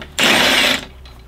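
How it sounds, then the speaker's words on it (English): Impact driver with a T40 Torx bit loosening a bolt on the crash bar of a BMW R1250GSA motorcycle, one short loud burst of rapid hammering lasting about half a second, close up. "I'm using an impact driver, but if you want to, you can use a normal torque wrench."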